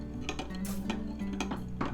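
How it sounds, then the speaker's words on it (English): A spoon stirs sea salt and a pinch of baking soda into distilled water, giving a few light clinks and scrapes against the container over a steady low background hum. "Stir it well to dissolve all of the salt."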